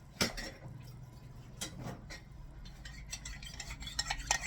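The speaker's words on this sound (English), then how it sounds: "I'm going to mix in some cornstarch to thicken it" A spoon stirs cornstarch into a little water in a bowl or pot, making soft scraping and clinking taps in an irregular rhythm, close and fairly quiet, with no talking.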